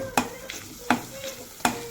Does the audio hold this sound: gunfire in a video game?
no